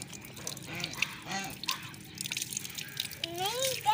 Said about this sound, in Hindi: बदकें भी फिर रही हैं